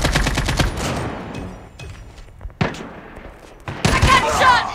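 Gunfire in the mobile shooter game Call of Duty Mobile, with rapid bursts of shots in clusters and louder volleys at the start and end, set among other game sounds.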